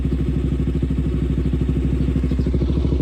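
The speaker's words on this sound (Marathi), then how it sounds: "बघा, दोन्ही बाईक स्टार्ट आहेत आपल्या. RC पण स्टार्ट आहे, डूक पण स्टार्ट आहे." A KTM RC 125 BS6 and a KTM Duke 200 BS4 idle together, their single-cylinder engines giving a close, steady, rapid chugging thump that holds even throughout with no revving.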